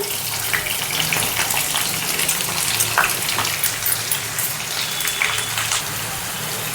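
Green chillies and onions frying in hot oil with tempering spices, a steady close crackling sizzle with fine spattering pops, no talk.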